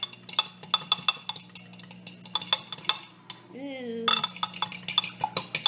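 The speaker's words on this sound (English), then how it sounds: "Mix it up." A fork beats eggs in a bowl with quick, rhythmic metallic clinks in bursts, pausing briefly while a voice lets out a short exclamation, then the clinking resumes.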